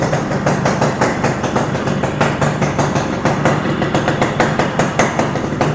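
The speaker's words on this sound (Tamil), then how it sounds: "எக்ஸாஸ்ட் நோட் கேளுங்க." A restored vintage vehicle's engine idles, sending out a loud, close exhaust note of steady, rapid rhythmic thumps and pops that keep an even beat throughout.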